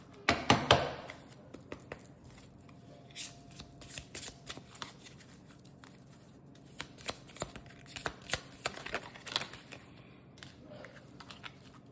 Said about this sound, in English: I'm gonna pull some oracle cards.